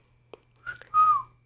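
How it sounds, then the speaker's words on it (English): A short whistle inside an old house during a ghost hunt: a faint click, then two thin rising-and-falling whistled notes, the second longer and clearer, over a low steady hum. "right off the bat, they hear a whistle"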